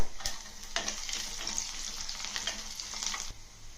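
Tempering seeds, dry red chilies and crushed garlic cloves sizzle in hot oil in a clay pot for bitter gourd chutney, a close steady crackle punctuated by sharp clicks of stirring against the pot.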